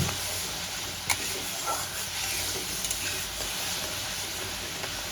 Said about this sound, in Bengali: এবার মশলাটা আমি কষিয়ে নেব